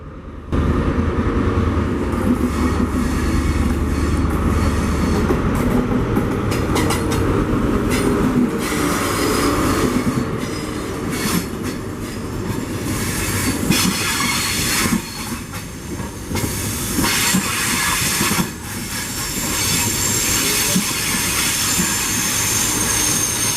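A Great Western Railway HST high-speed train rumbles across the bridge over the River Tamar to Saltash, close by for the whole stretch, its wheels squealing and clattering rhythmically over the rails at a steady, loud level.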